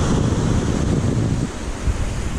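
Sea waves wash onto the beach beside rock breakwaters at La Patacona in Valencia, with a loud broad surf rush that eases after a surge, mixed with wind.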